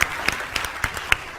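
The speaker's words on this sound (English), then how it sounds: "We just give a round of applause." Brief patch of audience clapping at a talk, a few scattered claps standing out over a soft wash of applause.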